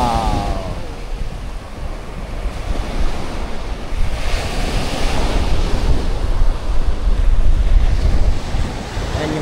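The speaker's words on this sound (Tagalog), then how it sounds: "Grabe, lalaki ng alon." Big ocean waves surge and break steadily at Choec Van Beach, a loud, continuous wash of surf with strong wind buffeting the microphone throughout.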